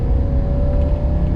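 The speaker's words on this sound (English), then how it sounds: "Whoa, she revs." A 1982 Mercedes 300 D diesel engine drones under hard acceleration on boost, a loud, steady low rumble with a constant whine heard from inside the car.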